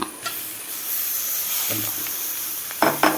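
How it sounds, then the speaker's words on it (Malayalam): Tomatoes hit a pan of egg curry masala, a soft steady sizzle and hiss with a few quick stirring scrapes and clatters near the end. "അപ്പം ഇനി നമുക്ക് ഇതിനകത്ത് ഈ തക്കാളി ഇട്ട് കൊടുക്കാം."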